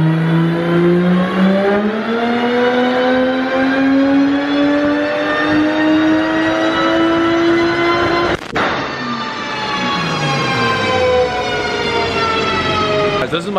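A big-turbo BMW 335i revving hard on a dyno, the engine note climbing steadily in a loud sustained whine, breaking off briefly with a sharp transient, then falling and rising again.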